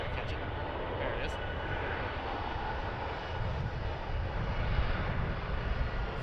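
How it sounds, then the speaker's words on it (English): A United Airlines Boeing 737 on approach to land at Cleveland Hopkins airport produces a steady, broad roar of jet engine noise heard from the ground at moderate distance, gradually swelling. "United Airlines 737 coming in here on 6 left."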